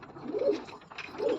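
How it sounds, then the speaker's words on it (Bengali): Satin fancy pigeons, hens and cocks, coo nearby in two short, throaty bursts against a soft background, with no one talking. "আরও কিছু পায়রা দেখাচ্ছে আপনাদেরকে শার্টিন পায়রার"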